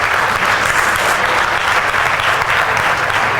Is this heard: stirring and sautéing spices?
no